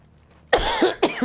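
A person, sounding unwell, coughs twice in quick succession, loud and close, harsh bursts with a short gap between them after near silence.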